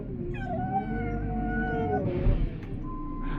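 A dog whines and yowls in a drawn-out, wavering cry, eager to get out and run; the cry is close and fairly loud, then breaks off into rustling and a short, higher whimper.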